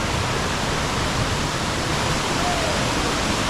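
Cambugahay Falls in Siquijor pours in a steady, full-band roar of rushing water that stays loud and unbroken throughout, with no voices breaking through.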